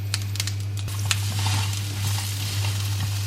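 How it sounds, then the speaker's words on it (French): Leeks and onions frying over fairly high heat in a pan with butter and olive oil, giving a steady close sizzle with small crackles and pops, plus a constant low electrical hum underneath. "on va faire revenir ça à feu assez fort et s'il y a besoin je mettrai aussi un petit peu d'huile d'olive"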